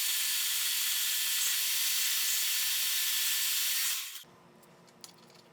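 Welding a piece onto a 2x72 belt grinder prototype produces a loud, steady, close hiss and crackle that runs for about four seconds, then stops abruptly and leaves faint workshop noise.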